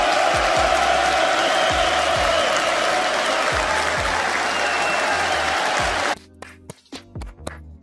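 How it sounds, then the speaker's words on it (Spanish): A crowd applauds loudly and steadily for an announced studio acquisition, dense clapping filling the first six seconds before cutting away abruptly to quieter, sparse sounds. "Todos un aplauso a la nueva adquisición"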